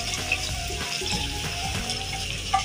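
An onion and spice masala fries in oil for Lahori anday chanay, giving a loud, close, steady sizzle with a bubbling, watery texture and occasional stirring clicks.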